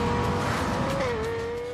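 Lexus LFA 4.8-litre engine revving, a sustained high-pitched engine note that rises slightly and holds, loud and close throughout the short burst.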